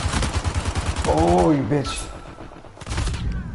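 Rapid gunfire aimed at the player in Uncharted 4 multiplayer, a fast rattling burst of shots in the opening second and again near the end, loud and close, with a man cursing over the middle.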